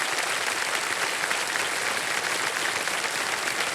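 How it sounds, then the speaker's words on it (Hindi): Loud, dense applause from a large studio audience on the quiz show Kaun Banega Crorepati, continuous and even from start to finish. "तालियां बज जाएं इनके लिए।"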